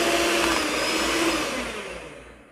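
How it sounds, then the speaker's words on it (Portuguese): An electric mixer whirs loudly and continuously as it beats cornmeal cake batter, its motor drone slowly fading toward the end. "Agora eu vou ligar a batedeira, vou bater por mais ou menos uns 2 minutinhos e volto aqui de novo"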